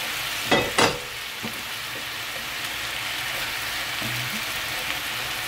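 Chopped scallions fry in oil in a pan for tofu braise, a steady soft sizzle with a couple of sharp clatters near the start and faint stirring noises.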